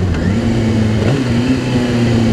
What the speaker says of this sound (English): I've got a lot of compliments already on the exhaust, how it sounds.